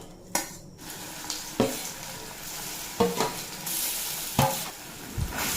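Mashed potato and raw green banana frying with cumin seeds in a pan, stirred with a utensil; a steady sizzle runs throughout, broken by several sharp scraping and clinking strokes of the spoon against the pan.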